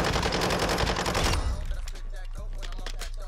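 Rapid automatic gunfire in Modern Warfare II as a weapon empties its magazine, a loud dense burst of shots lasting about a second and a half, then quieter sparse game sounds.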